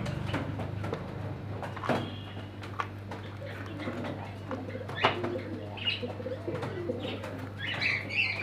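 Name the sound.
kagji pigeons cooing in a bird shop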